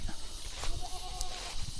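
A goat on a pig and goat farm gives a single wavering bleat, moderately close, over a busy background of rustling and other farm noise.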